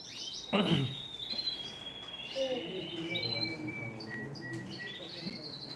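Canaries at a canary auction in Ümraniye chirp and trill in thin high tweets across the whole stretch, with a brief louder broadband burst near the start and a murmur of background chatter beneath.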